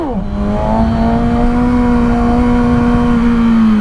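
Kawasaki ZX6R sport motorcycle engine revving in cold morning air, a loud, steady high-pitched drone that climbs briefly at the start then holds near and continuous throughout.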